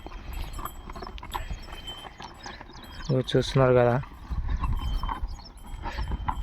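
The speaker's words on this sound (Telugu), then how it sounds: "ఎద్దులు కూడా బాగానే గుంజుతున్నాయి" Hooves clop steadily as bullocks plod along outdoors, with a brief animal call midway and a person talking over the walking.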